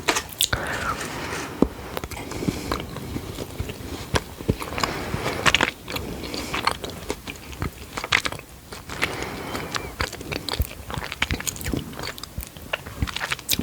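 Milk chocolate being bitten and chewed close up, crisp crunches and moist mastication repeating steadily with no talking.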